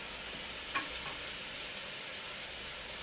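A Caribbean-style chicken curry simmers in a pot with a gentle, steady sizzling bubble, and a spoon stirs it once with a brief scrape near the start.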